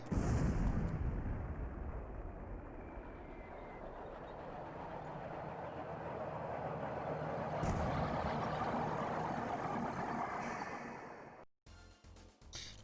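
Explosions in the Command & Conquer Remastered game, a broad rumbling blast and crackling debris noise sustained at moderate level before cutting off abruptly near the end.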